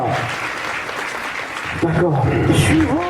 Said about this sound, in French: Continuez à applaudir Madame Moïse